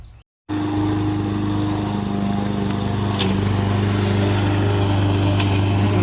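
A lawn mower runs at night near a garden, its engine holding a loud, steady hum after a brief gap at the start, continuous and close with no talking.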